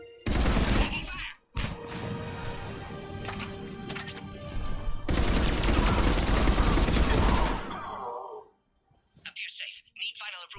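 Heavy automatic gunfire in a Mass Effect firefight, loud sustained bursts of shots with a brief gap, then dying off into scattered electronic tones.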